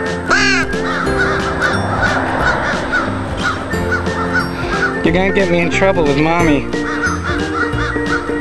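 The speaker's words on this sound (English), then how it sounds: "That's two crows." Two crows caw loudly in a repeated series of harsh calls, close by, mixed with a person talking over them throughout.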